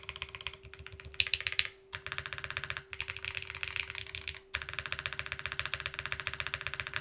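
Fast, steady typing on an ESU67 custom mechanical keyboard, with soft, muted key clacks in dense rhythmic bursts separated by brief pauses, over a faint constant hum, without speech.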